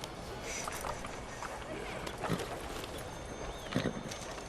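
Horse hooves clip-clopping in the video game Red Dead Redemption 2, a few soft thuds standing out over a steady noisy game ambience, with occasional louder hoof falls.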